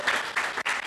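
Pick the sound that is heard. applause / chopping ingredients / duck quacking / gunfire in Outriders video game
applause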